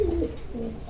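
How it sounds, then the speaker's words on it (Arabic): Pigeons cooing inside a pigeon loft, a short soft low coo heard close up and alone. "نتفرج على بيت الحمام مع بعض."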